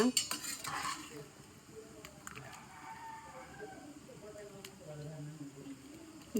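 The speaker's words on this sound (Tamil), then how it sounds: "இப்போ ரைஸ் போட்டாச்சு இந்த கிளறி காமிக்கிறேன் பாருங்க" A spoon scrapes and stirs through rice in a pot of biryani, soft and close, with a gentle simmering hiss in the background.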